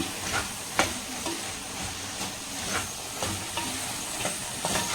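Ridge gourd pieces stir-fried in oil in a clay pot make a continuous close sizzle with regular soft scraping strokes of a spoon about every half second, no voices over it.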